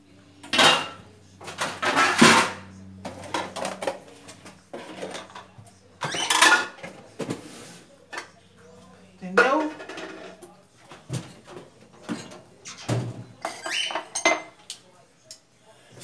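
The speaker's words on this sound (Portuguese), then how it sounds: "Vou guardar essa loucinha para começar a lavar a outra." Dishes and cutlery clink and clatter as they are put away in a home kitchen, scattered sharp knocks and rattles at irregular intervals, close by, with someone talking between them.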